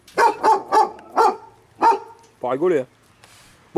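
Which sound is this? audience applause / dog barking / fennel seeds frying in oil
dog barking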